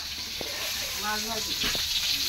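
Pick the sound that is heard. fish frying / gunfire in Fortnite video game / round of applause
fish frying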